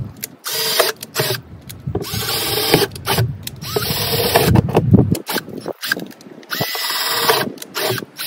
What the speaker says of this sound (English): So you can see I'm just drilling holes here